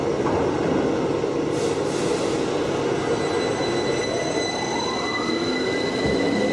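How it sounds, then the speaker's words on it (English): An animated train rolls steadily along its rails, with a continuous close rumble and high wheel squeal running throughout, no talk. "This train is slow, isn't it?"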